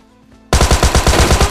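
Rapid gunfire in the mobile shooter PUBG Mobile Lite erupts suddenly after a quiet moment: about ten loud, close shots fired in a quick, even rhythm.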